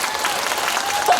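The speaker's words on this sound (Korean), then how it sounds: "한 박수 부탁드립니다" Audience applause at a film stage-greeting event in a CGV Yeongdeungpo cinema, a steady dense wash of clapping from the crowd filling the whole moment without speech.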